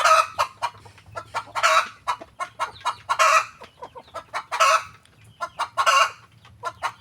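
Egg-laying hens and a rooster clucking in a repeated series of nearby bursts, with low background hum and no talking.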